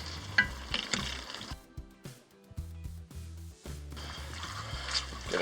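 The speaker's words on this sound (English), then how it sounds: "you just need to keep stirring it and try to get all the meat browned up" Deer meat stirred and browned in a pot for stew, a quiet steady sizzle with spoon scrapes that fades briefly midway, then returns with more frying hiss.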